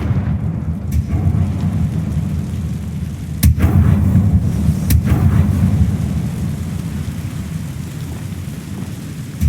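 Confringo explosive spell fired in the Hogwarts Legacy video game: a deep, rumbling blast with two sharp cracks partway through, loud and booming, then fading away with no speech.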